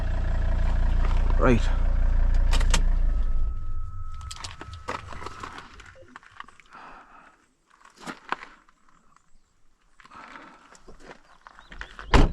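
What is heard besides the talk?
car engine idling and being turned off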